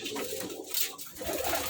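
Soft, low racing pigeon cooing close by in a loft, a few murmuring calls over a faint background, with no talking.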